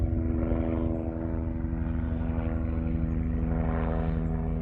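A mountain rescue helicopter flying in above a fell walk near Buttermere, its rotor and engine making a steady, loud, throbbing drone that swells slightly as it approaches.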